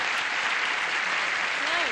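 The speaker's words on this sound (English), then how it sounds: "Applause, applause, applause." Steady studio audience applause greets a game show contestant, a continuous wash of clapping at even loudness throughout, with a faint voice near the end.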